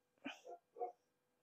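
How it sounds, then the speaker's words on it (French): Short, agitated barks from dogs: a sharp bark followed by two quicker yaps in close succession, moderately near with no voices over them. "Les chiens qui s'agacent"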